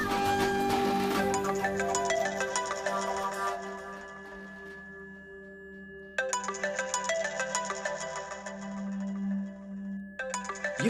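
Mobile phone ringtone plays an electronic melody in two bursts with a short pause between, heard indoors at moderate loudness with no talking over it.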